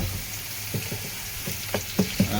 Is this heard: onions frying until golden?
yes